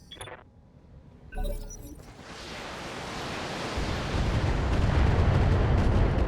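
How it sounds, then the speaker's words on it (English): Long-range missile salvo fired from a mech in the BattleTech video game, a sharp launch burst followed by a growing, dense roaring rush that swells and stays loud to the end, with no voices. "Long-range missiles."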